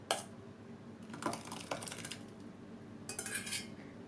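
Cooked oats scraped and spooned from a pot into a serving bowl: a few quiet bursts of metal clinking against the dish, separated by short pauses, near and faint, with no talking.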